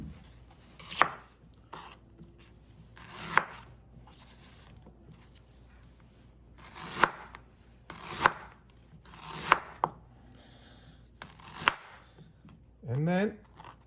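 A knife chops marinade ingredients into small pieces on a board for Peking duck, with sharp, close thuds spaced a second or two apart over quiet handling noise and a brief rustle at the end.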